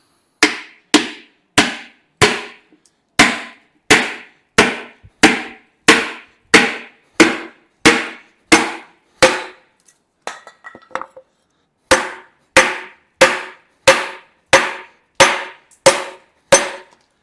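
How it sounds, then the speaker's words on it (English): A hammer strikes a piece of wood to force a part into a motor, about two dozen loud, sharp blows in a steady rhythm, with a short pause and some faint shuffling partway through. "Let me get something to whoop on it with, a piece of wood and hammer."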